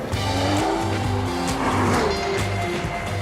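A BMW M135 with a 3-litre turbocharged six-cylinder engine drives hard, a continuous loud engine drone with gear changes and rising pitch and some tyre noise, close and steady, no speech.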